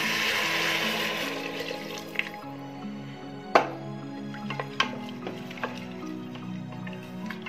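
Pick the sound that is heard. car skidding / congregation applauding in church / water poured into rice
water poured into rice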